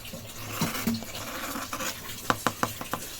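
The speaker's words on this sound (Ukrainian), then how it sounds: "Послухайте тільки, яка хрустка в нього скориночка." The crust of fresh 100% rye bread, just out of the oven, crackling and crunching up close, a series of sharp crisp cracks and snaps coming in quick bursts toward the end.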